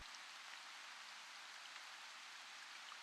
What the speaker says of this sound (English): Underneath, I've just got some rainforest sounds.